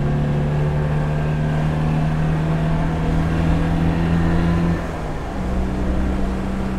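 Citroen 2CV driving home after a failed MOT, its steady engine drone and road noise loud and continuous with wind, the tone dropping briefly near the end as the car changes speed.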